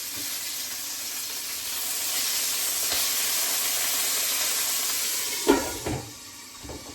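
A steak sears in a hot pan, giving a loud, steady, close hissing sizzle that holds for several seconds before a few brief clunks and a softer, fading hiss near the end; no one speaks.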